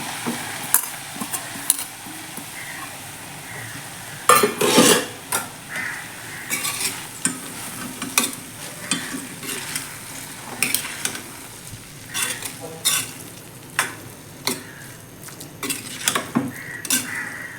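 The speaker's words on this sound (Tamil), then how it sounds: "நல்லா கிண்ட வேண்டியது தான்" Mint rice being stirred in a pan after the stove is switched off: repeated scraping, clinking spoon-on-pan strokes in an irregular rhythm over a soft background hiss, close and fairly loud, no speech.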